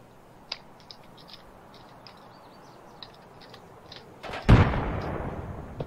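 Shooter-game gunfire from scav enemies: a handful of faint, distant pops spaced irregularly, then one sudden loud, close blast with a lingering rumbling tail. No voices are heard.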